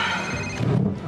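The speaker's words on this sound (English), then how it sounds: "I'm getting a text message." A phone text message alert plays as a brief electronic tone with bright, steady ringing pitches that lasts about a second and then stops.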